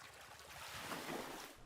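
Water sound effect in the cozy building game Tiny Glade: a soft, steady rushing wash of water, like gentle surf, that fills the short moment without a break.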